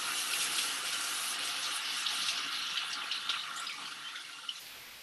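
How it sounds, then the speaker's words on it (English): Homemade nut milk pours back into a mason jar in a steady, bright, liquid rush that holds for several seconds and tapers slightly at the end, with no voices. "I'm going to pour it back into my mason jar"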